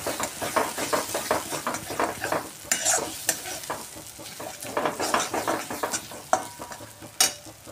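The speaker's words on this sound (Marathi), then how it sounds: "असंच आपण छान तेलावर परतवून घेऊया, छान भाजला जाईपर्यंत" Masala sautéing in oil for egg curry, with busy, rhythmic stirring and scraping of a spoon across the pan over a close, steady sizzle, punctuated by occasional metallic knocks.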